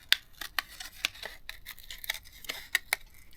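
A good, durable pair of scissors snips through both ends of material for a bracelet display, producing a quick series of sharp, close clicks and cuts at an uneven rhythm.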